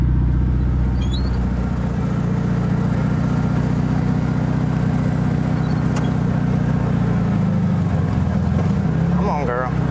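Swapped-engine 1974 Volkswagen Thing cruising in low gear, a loud steady engine drone with rumbling low harmonics throughout, wind buffeting the microphone, and a brief rise and dip in engine note near the end.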